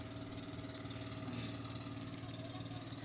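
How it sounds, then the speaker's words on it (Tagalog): A motorcycle engine idles in Donsol, Sorsogon, giving a steady, even, low chugging hum that runs unbroken throughout, fairly faint and with no voices over it. "Mga ka-idol, ito po ang motor."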